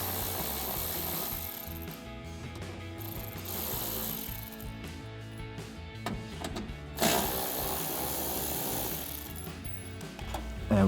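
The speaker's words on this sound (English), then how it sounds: "we'll grab our 8mm socket to take out our 2 bolts" An 8mm socket ratchet clicks steadily and mechanically while backing out the mud flap bolts on a 2019–2023 RAM 1500 rear wheel well, a continuous close-up ratcheting texture with no talking.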